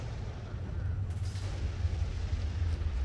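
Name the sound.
grenade explosions in the video game S.T.A.L.K.E.R. Misery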